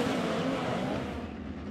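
Midget race cars idle around a speedway, a continuous buzzing engine drone holding steady at moderate distance through the whole moment, without talk.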